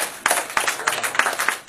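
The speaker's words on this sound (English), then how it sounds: "Please, let's give her a clap." Audience applause with individual claps ringing out clearly in a steady, dense rhythm, close and moderately loud, lasting under two seconds without speech over it.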